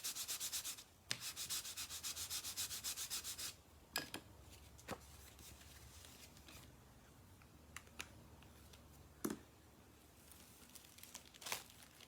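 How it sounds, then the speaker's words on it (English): A stamped paper card is burnished by hand, giving a close, quiet rubbing and scraping sound with a few short crinkly strokes and light taps, with no talk. "Let's just give that a good burnish."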